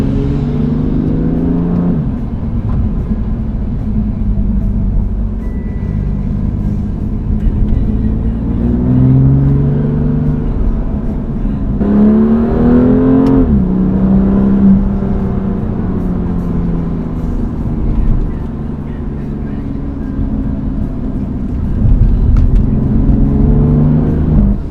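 A BMW M2 Competition with a DCT gearbox drives on winter tires in winter, with a steady engine hum and tire rumble from inside the car. The pitch rises and falls with repeated acceleration and gear changes, and no one speaks.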